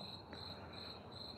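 Crickets in a forest chirp in a steady, high, shimmering drone that holds throughout, with soft night ambience beneath.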